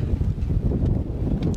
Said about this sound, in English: Have some of the strong gusts, I think,